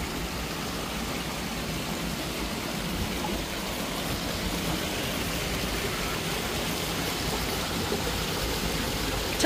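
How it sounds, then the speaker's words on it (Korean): A waterfall in a mountain valley stream gives a steady, broadband rushing roar that stays even and close throughout, with no talking. "자, 폭포수 가까이 옵니다."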